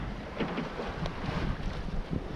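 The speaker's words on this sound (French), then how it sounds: "Juste le bruit de la mer, des vagues et du petit pilote automatique" Open sea and waves around a sailboat off Port-la-Nouvelle, with its small autopilot running. A steady broadband wash of water and wind is heard, with faint mechanical pulses, no talking.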